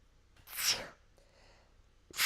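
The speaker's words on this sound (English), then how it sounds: "I have to sneeze." A single close sneeze, a sharp breathy burst followed by a brief quieter exhale, then the start of another burst as the clip ends.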